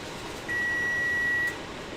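A cooking timer on the stove, set for couscous, gives one clear, steady electronic beep lasting about a second, close by and loud against quiet room tone.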